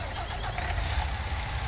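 A MAN truck engine in the video game Farming Simulator 2019 rumbles steadily at a low, constant drone for a couple of seconds, with no speech over it.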